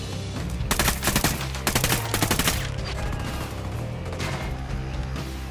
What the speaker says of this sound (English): Taking cover from heavy fire,